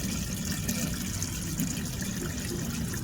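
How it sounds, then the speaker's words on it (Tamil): Water is poured into a blocked waste drain pipe to test whether it clears, making a steady, continuous rushing and gurgling flow that stays close and fairly loud throughout, with no voices. "நம்ம கிளியர் பண்ணுற அளவுக்கு நம்ம வந்து தண்ணி ஊற்றி செக் பண்ணிக்கணும்."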